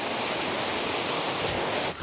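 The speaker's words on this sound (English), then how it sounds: "I can hear the water. It sounds calmer now." Steady, loud rush of river water flowing close by in the woods, a dense continuous wash that briefly dips at the end.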